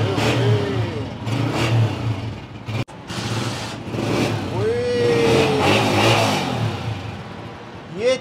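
A used 2021 motorcycle engine, a Honda 125-class bike at a used-bike sale, revs up and down repeatedly for a sound check, loud and close, with people talking over it.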